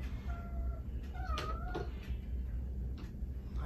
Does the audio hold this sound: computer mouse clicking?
no